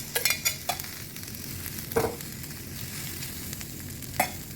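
Corn, asparagus and black fungus hit a hot pan for a garlic stir-fry, giving a steady close sizzle broken by a few sharp spatula scrapes and clinks, with no voices.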